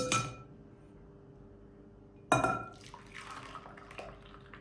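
Boiled watermelon rind being strained, with a sudden splash of water pouring out around the midpoint, then draining and dripping in a broad wash that slowly thins out.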